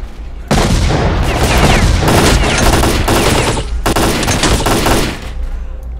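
Loud, dense bursts of rapid gunfire crackle almost continuously for several seconds, with a brief break before the shooting resumes, in the video game S.T.A.L.K.E.R.: Clear Sky.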